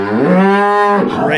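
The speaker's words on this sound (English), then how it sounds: "The cows want out." Farm cattle give a single long, loud, close moo with a rich tonal drone, ending in a rough, breathy tail.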